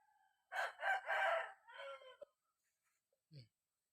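A rooster crows loudly and fairly close in a misty countryside setting, followed by a short cluck. The call then falls to near silence.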